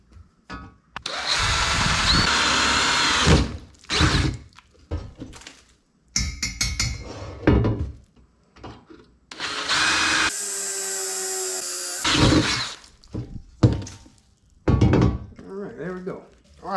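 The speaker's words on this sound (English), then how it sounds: "I'm gonna drill these out with a 1/4 inch drill bit" A power drill with a quarter-inch bit whirs through several bursts of drilling holes for bolts while building a flatbed, separated by pauses, knocks and clinks of handled parts, with someone speaking between them.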